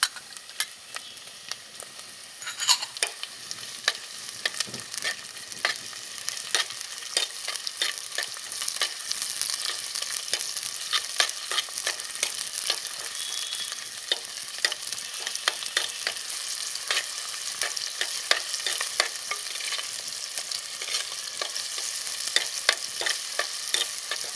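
Steady sizzling of onion and tomato sautéing in a pan for fish kuzhambu, with frequent scraping and stirring clicks throughout, close and fairly loud, no talking.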